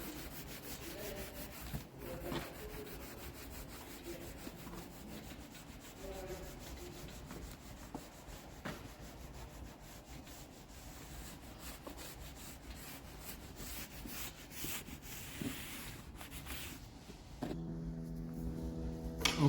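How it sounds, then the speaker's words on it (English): A cloth rubbed back and forth over a laminate edging strip freshly stuck with spray glue on a kitchen worktop, giving a steady, soft, close scrubbing sound throughout without speech. "get yourself a cloth, which is here. Just rub it in like so."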